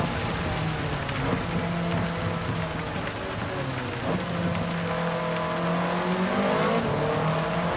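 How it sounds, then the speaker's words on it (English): Rain on the track in Gran Turismo 7, steady hiss of rainfall over a race car engine humming and shifting pitch as it accelerates, continuous and moderately loud throughout. "like the rain hadn't really seeped in yet"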